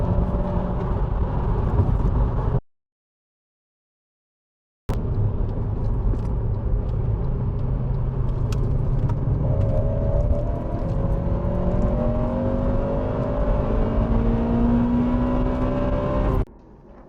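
A Honda Civic Type R FN2 with an Ecutek ECU remap pulls hard through the gears. A loud, close engine drone rises in pitch with each pull, broken by a sudden gap of silence, and no one speaks.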